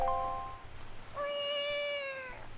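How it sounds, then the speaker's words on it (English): Link lets out two cat-like meows in The Legend of Zelda: Wind Waker video game: a short first call, then a longer, rising and falling one, clear and unaccompanied. "I think Link makes a cat noise"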